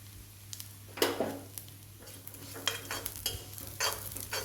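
Neem flowers are stirred and roasted in a pan for pachadi, a quiet close sizzle with repeated scraping and tapping of a spoon against the pan at an irregular rhythm.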